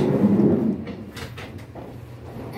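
A drawer on a yacht in the British Virgin Islands slides shut with a low rumbling glide near the mic, then a quiet room follows.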